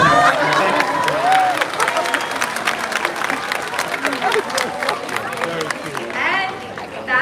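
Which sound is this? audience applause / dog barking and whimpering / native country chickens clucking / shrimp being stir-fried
audience applause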